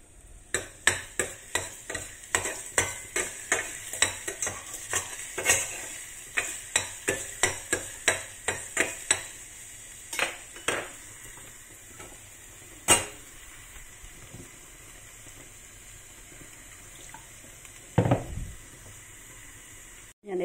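Garlic sizzling in hot oil for an okra dish, with a dense run of quick utensil scrapes and taps against the pan early on, then softer frying with occasional clinks.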